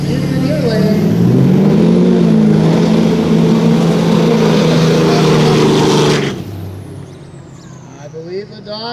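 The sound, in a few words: drag racing cars accelerating down the track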